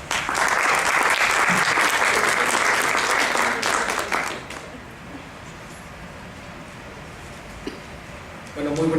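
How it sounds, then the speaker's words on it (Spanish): Audience applause greets the next speaker at a student philosophy colloquium, dense loud clapping for about four seconds before fading to quiet room tone, with a voice starting near the end. "Un aplauso, por favor."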